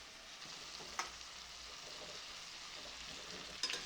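Fried cauliflower and potato tossed into a pan of cumin spice, a faint continuous sizzle with a couple of soft scraping stirs, no voices.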